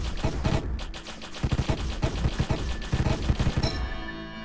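Rapid gunfire and missile shots in the video game Deathstate, dense repeated blasts in quick bursts, loud and close, ending with a brief tonal chime.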